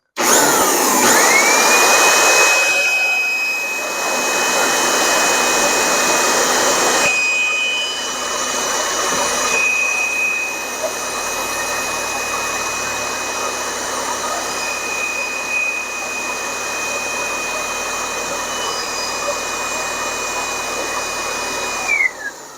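Homemade wind turbine generator spinning during a voltage test, producing a loud, continuous airy roar with a sustained high-pitched whine that starts abruptly and holds steady for about twenty seconds.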